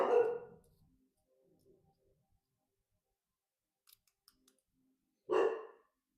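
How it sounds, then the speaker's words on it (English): A dog barks in two loud bursts at the start and end as a package is delivered, with faint clicking and tapping in the quiet stretch between. "We're getting a package, and my dog's going to go bananas."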